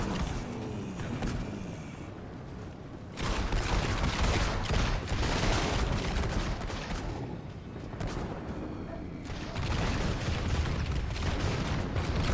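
Rapid bursts of gunfire from the Warhammer video game as rats are shot apart, a dense, continuous barrage with loud stretches and brief lulls, with no talking.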